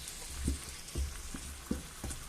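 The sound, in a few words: potatoes added to sizzling pot for mussel and fish stew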